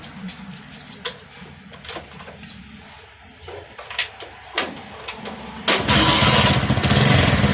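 A motorcycle with an adjusted silencer: clicks and handling noises come first, then the engine starts and runs loudly and steadily near the end.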